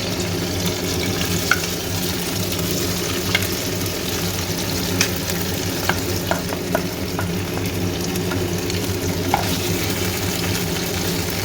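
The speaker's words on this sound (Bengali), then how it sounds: "পনিরগুলো যেগুলো ম্যারিনেট করে রেখেছিলাম এগুলো অল্প অল্প আমি করে তেলে ছেড়ে দেবো।" Marinated paneer pieces frying in a little oil in a pan, a continuous close sizzle with occasional sharp pops and spatters, steady throughout with no talk.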